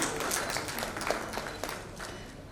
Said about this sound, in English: A round of applause, everyone.